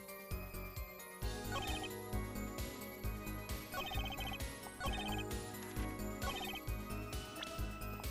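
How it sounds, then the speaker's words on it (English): Electronic telephone ringtone from a cell phone call to the police in the Apollo Justice video game, a repeating bright chime pattern layered over steady game music with no talking. "Use my cell phone to call the police."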